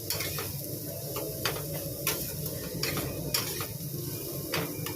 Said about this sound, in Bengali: এখানে দেখো আলু ভাজছি, শুকনো লঙ্কা দিয়ে একটু আলু ভাজছি,